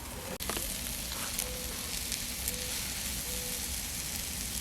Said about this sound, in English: I love the sound of stuff cooking on the grill.